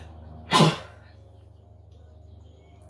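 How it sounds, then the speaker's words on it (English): A woman lets out a single sharp, loud sneeze close to the microphone, followed by quiet room tone and a faint click at the end. "I'm about to sneeze."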